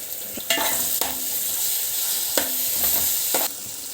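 Ginger garlic paste fries in a hot pan with a steady close sizzle, broken by a few scraping stirs of a spoon across the pan.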